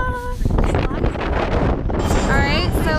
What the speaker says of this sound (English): And it's freezing. The wind is crazy.